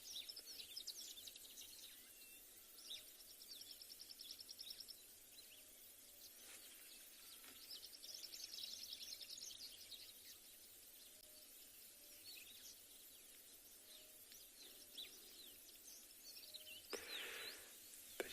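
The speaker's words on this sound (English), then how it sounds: "you can hear the bird activity" Bird calls at sunrise on a Tswalu safari drive, faint and scattered chirps and short song phrases from birds at a distance, over a quiet, steady outdoor background with no talking.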